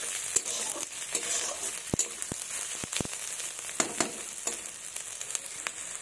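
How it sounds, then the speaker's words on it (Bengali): Onions frying in oil in a pan, a moderate sizzle broken by sharp ladle knocks and stirring scrapes at irregular intervals, close and without speech. "পেঁয়াজগুলো আমার লাল লাল করে ভাজা হয়ে গেছে"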